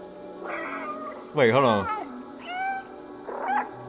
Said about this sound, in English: Press B to meow.